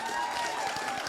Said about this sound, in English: Oh, you're going to clap for the whole bio.